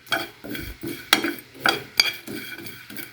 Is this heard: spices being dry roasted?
yes